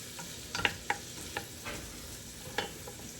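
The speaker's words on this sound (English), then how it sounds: "Give them a quick stir, make sure they're well coated." Shallots being stirred in a sauté pan for shellfish bisque, giving a few soft scraping clicks of the utensil over a low, steady sizzle, with no talking.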